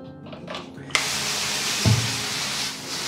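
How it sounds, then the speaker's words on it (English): A spray bottle mists the leaves of a large houseplant indoors in winter, a sudden steady hiss that starts after a faint moment and carries on close by without pause, with a brief knock partway through. "Leaves aren't even that dirty, but I just like to spray them off"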